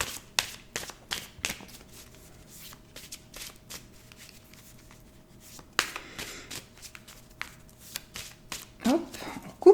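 A deck of playing cards is cut and shuffled by hand in quick, crisp riffles and taps close by, with a brief break midway and some soft handling noise.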